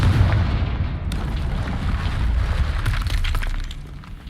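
A Confringo blasting spell explosion in Hogwarts Legacy: a dense, loud rumbling blast with shattering debris and crackle that carries on for several seconds, with no talk.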